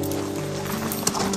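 Horses in a rural Australian setting clip-clop at a steady walk, with the hoofbeats fairly faint under a constant broad hiss and a low hum. There is a single sharper knock near the end.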